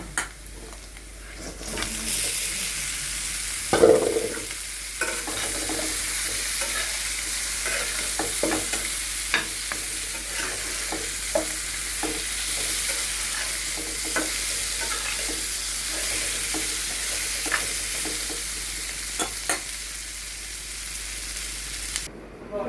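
Marinated meat poured into a hot pan sets off a loud sizzle, followed by a steady frying hiss with repeated scraping and clinking as it is stirred, no voices.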